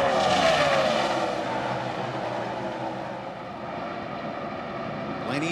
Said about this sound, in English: These guys are really drifting up the racetrack.